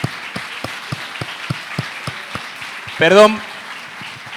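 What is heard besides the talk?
audience applause for the author's daughter Clara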